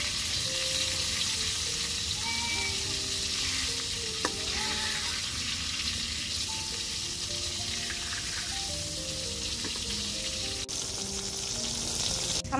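Masala-coated eggplant (begun bhaja) sizzles in hot oil in a kadai after being turned over, a continuous moderate frying hiss with light crackles and a brief utensil clink partway, no voices.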